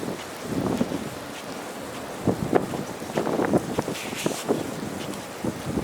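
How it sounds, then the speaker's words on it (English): Wind rushing through treetops in a snowstorm, a continuous rough roar with gusty surges, buffeting the microphone up close. "All the background noise that you hear is wind going through the treetops."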